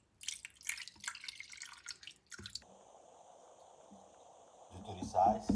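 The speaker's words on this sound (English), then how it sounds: "Let me add about 1/2 cup of water." Water is poured into a pan of searing steaks for ropa vieja, giving a steady sizzling hiss that follows some brief clattering handling noise near the start and ends with louder clatter.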